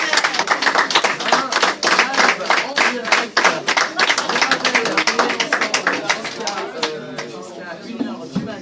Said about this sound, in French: Et nous, en attendant, on applaudit Gomar.